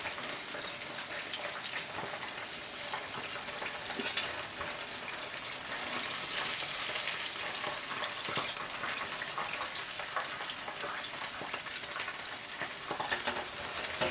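Chicken pieces deep fry in hot oil, a loud, steady, bubbling sizzle that runs without a break for the whole stretch, with no talking over it.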